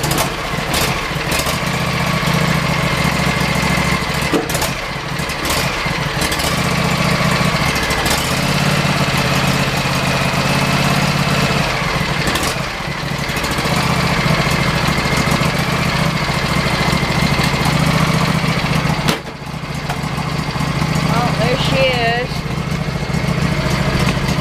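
A John Deere lawn mower engine runs steadily with a low droning hum, close and loud for the whole stretch, with a few brief knocks and a voice speaking over it.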